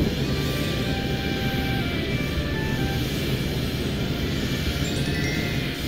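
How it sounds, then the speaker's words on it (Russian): A steady airplane drone hums continuously at moderate volume, with no voices. "Самолет готов к взлету."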